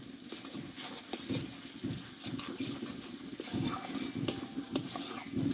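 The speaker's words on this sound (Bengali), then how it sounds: "দিয়ে আরও আমি 1 মিনিট মতো মশলাটা কষে নেব।" Spice paste with a little sugar sizzles quietly in a pan for chicken curry, broken by repeated scraping stirs and occasional clinks of the spoon against the pan, faint and close.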